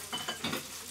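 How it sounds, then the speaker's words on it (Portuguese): Food fries in a pan (caçarola) with pasta in garlic and oil nearby, giving a faint sizzle broken by a few quick stirring and utensil scrapes. "E aqui tem outra caçarola lá, fritando."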